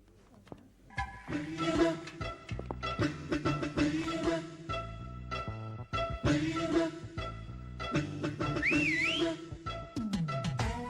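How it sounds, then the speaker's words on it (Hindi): A sharp rising-and-falling whistle, as if someone is whistling from outside a house, cuts briefly through loud, busy background music near the end. "अरे ये सीटी किसने बजाई?"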